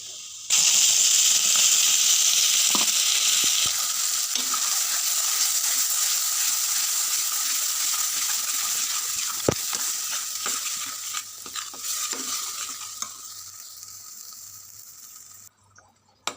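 Spices and spinach puree fry in hot oil in a pan, starting with a loud, bright sizzle that gradually softens and settles, with occasional stirring clinks and scrapes toward the end.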